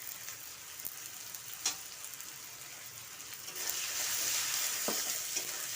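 Potato and tomato fry with red chilli, turmeric and coriander powder in a pan, a soft, steady sizzle with occasional stirring scrapes, swelling a little louder midway.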